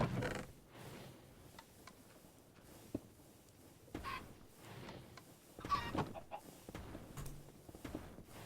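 Chickens in Minecraft give scattered short clucks and soft fowl sounds among quiet game ambience and occasional thuds over several seconds, with no talk.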